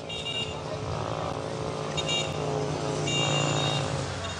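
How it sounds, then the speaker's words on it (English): A plantation tractor's engine drones steadily while ferrying workers home at night, a continuous rumbling hum with a voice speaking over it. "Every night the plantation tractor ferries the workers home."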